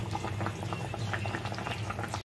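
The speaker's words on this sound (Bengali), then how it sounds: "চিকেন দিয়ে আলু দিয়ে লাল লাল ঝোল হচ্ছে একটা।" Chicken and potato curry in red gravy simmers in a pot, giving a close, continuous bubbling with frequent small pops and gurgles, then a brief break just before the end.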